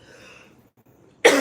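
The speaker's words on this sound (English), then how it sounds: "Thank y'all for bearing with me with this cough." A single sharp cough bursts out near the end, close and loud, after a moment of faint, near-silent breathing.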